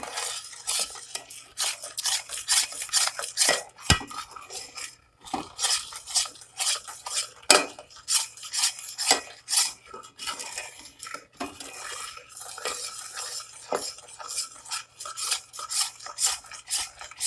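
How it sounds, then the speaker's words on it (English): A boiling coffee candy mixture is stirred in a pot, producing rapid, close scraping and clinking of a utensil against the metal in uneven bursts with short pauses, and no speech. "I'm going to stir it again, bring it back to a boil, and stir it for about 30 seconds."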